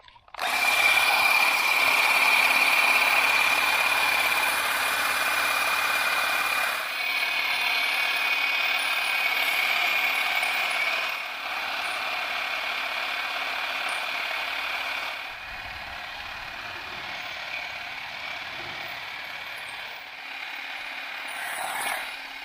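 A Ryobi OGS1822 18V ONE+ cordless shear shrubber runs steadily, a continuous close motor whine with cutting chatter, dipping briefly at around seven and eleven seconds, then carrying on slightly quieter to the end.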